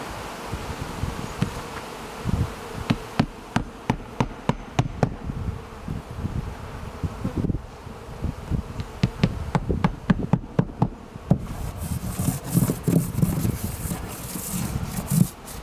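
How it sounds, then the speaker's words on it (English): Honeybees buzz around at close range during a colony removal, a droning hum broken by sharp taps and knocks, with the buzzing swelling louder near the end. "Just a few bees, stragglers,"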